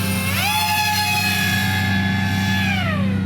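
A 3000 kV electric motor on a long-range Chimera4 RC aircraft punches to full throttle, a loud, steady high-pitched whine that rises sharply, holds and then drops back at the end.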